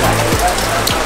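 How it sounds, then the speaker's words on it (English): Heavy tropical rain pours down hard and close, a dense unbroken hiss of drops hitting surfaces, loud throughout with no pauses. "1 minute I was filming some beautiful rainy B-roll, and the next thing, it's like a tropical storm."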